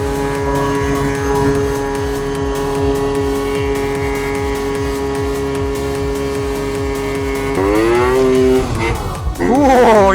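A tuned 50cc scooter engine buzzes steadily at high revs, close and loud. Near the end it climbs sharply in pitch as the scooter accelerates, and a rider talks over it.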